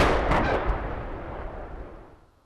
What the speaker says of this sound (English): An explosion could be heard and felt for miles.